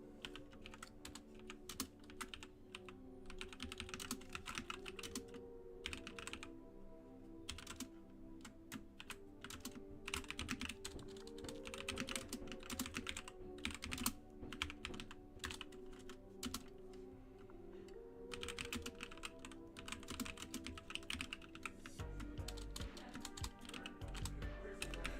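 Rapid typing on a computer keyboard, a continuous stream of close, crisp key clicks with brief pauses and bursts, fairly quiet under faint background music.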